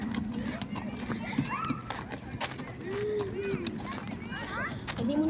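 A horse's hooves clip-clop steadily during a first ride, with a rider aboard and the animal seemingly tiring. Some faint, high whistling sounds and background noise are also present.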